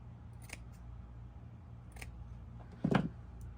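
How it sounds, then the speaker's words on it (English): Scissors snip through folded material several times while a scarecrow hat topper is made, giving sharp, quiet separate cuts, with one louder, fuller snip near the end. "I folded it in half, and I'll just cut it several times."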